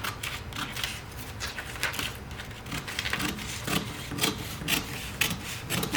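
Scissors cut kurti fabric with a steady, close, scratchy rasp of continuous snipping and rubbing, fairly quiet with small irregular clicks throughout.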